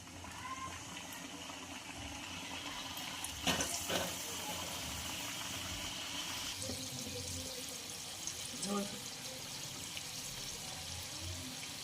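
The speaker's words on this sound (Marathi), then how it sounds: "इथं बघू शकता दुसरी सुद्धा बॅच आपली मीडियम गॅसवर मस्त फ्राय होत आहे" A batch of samosas deep-fries in oil over a medium gas flame, making a soft, continuous bubbling hiss with a couple of brief clatters partway through.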